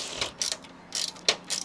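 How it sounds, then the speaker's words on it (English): A ratchet is worked in short clicking bursts while a PC is being cleaned, giving four or five separate close ratcheting strokes with brief gaps between them. "Wait, I have a ratchet for a reason."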